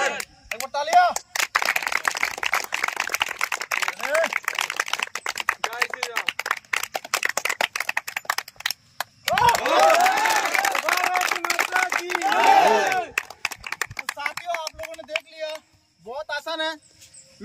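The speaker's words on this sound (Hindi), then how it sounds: "एक बार ताली हो।" A crowd claps at a male physical efficiency high jump test, with long stretches of brisk, dense applause and a louder burst partway through, heard outdoors while someone talks over it.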